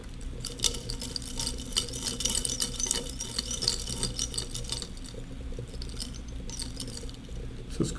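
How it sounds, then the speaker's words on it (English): A glass of water with substrate solution stirred briskly, a continuous close scraping and rattling swirl against the glass with rhythmic clicks, steady throughout with no voices. "And we'll stir again."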